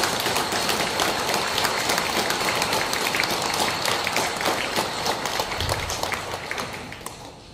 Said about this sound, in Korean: 미린의 실버타운 부원장님이신 유준 요한 세례자 신부님을 큰 박수로 모시겠습니다.